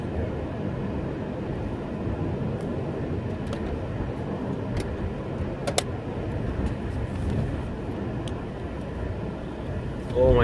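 A car drives along East Main Street in Norton, Massachusetts, with a steady, muffled road and engine rumble from inside the cabin and a few faint clicks and ticks.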